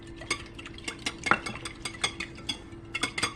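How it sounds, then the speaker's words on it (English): A whisk or utensil clinks rapidly against a bowl while beating one large egg with skim milk, light irregular taps close up in a quiet kitchen. "in another bowl, you're going to whisk up one large egg"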